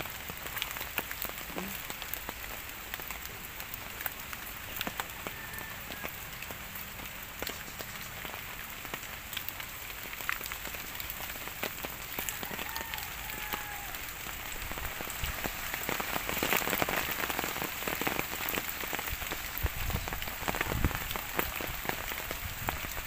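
Heavy rain from Typhoon Ulysses pours down continuously, drumming densely on surfaces nearby with a constant loud hiss and scattered sharper drop impacts, and no voices.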